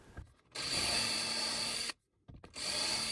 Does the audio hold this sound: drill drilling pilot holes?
yes